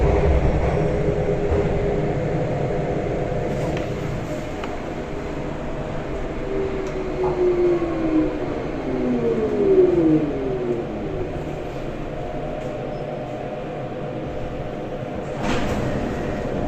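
A train in Turin, Italy begins reversing after a brief stop, its motor giving a steady rumble with rising and falling whine tones over constant low track noise, fairly close and continuous.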